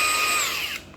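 An electric drill runs with a loud, high, steady whine that slides downward and cuts off as the motor stops.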